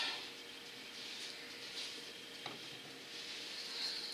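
Pigment is mixed into silicone with soft, continuous stirring and scraping that stays faint and close, with a couple of tiny ticks.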